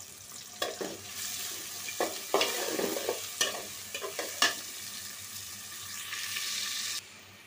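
Onions frying in a pan with steady sizzling and bursts of stirring as a utensil scrapes through, close and fairly loud, with no talking.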